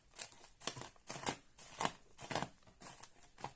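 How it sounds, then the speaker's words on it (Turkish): A box cutter slices open the packaging of a new dirt jump mountain bike frame in a run of about seven quick, close, rhythmic scraping cuts, with no talking. "Şöyle falçatayla paketi jiletliyoruz."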